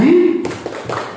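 A group of voices in a classroom leads into a few quick, bright claps that ring out together in a short burst for a pupil named Aji.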